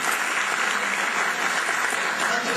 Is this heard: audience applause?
yes